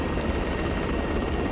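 A military helicopter in the Arma 3 combat game drones steadily and loudly throughout, its rotor and engine noise filling the whole stretch without letup.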